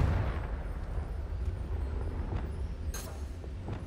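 Confringo blasting spell exploding in Hogwarts Legacy: a loud, sustained rumbling roar with a sharper burst near the end, no voices.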